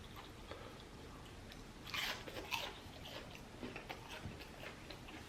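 Garlic parmesan chicken wings from Buffalo Wild Wings being bitten and chewed close up, a couple of quiet crunchy bites standing out against a soft, low background.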